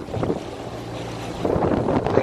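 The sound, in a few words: wind on the river during a boat trip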